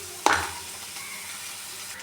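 A spoon scrapes and stirs chicken with onions frying in a pan, one brief stroke followed by a steady, soft sizzle.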